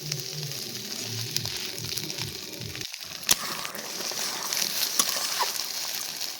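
Maggi noodles stirred with masala in a hot pan, a steady soft frying sizzle with a few scraping clicks from the stirring, close and alone, over low background hum.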